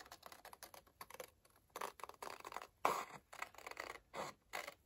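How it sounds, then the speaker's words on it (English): Long scissors trim paper for a handmade paper bag journal, with quiet repeated snipping and crisp cutting strokes in an uneven rhythm, close by and alone. "so I'm going to take my long scissors"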